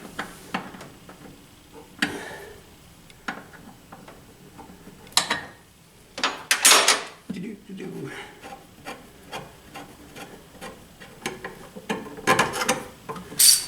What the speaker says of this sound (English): Now we're going to disconnect the line that goes to the master cylinder.